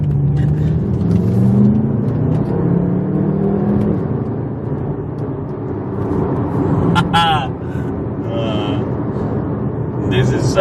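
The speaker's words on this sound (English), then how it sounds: "let's take this for a drive" A BMW M car drives with a steady low engine drone and road rumble throughout, while people talk and exclaim over it.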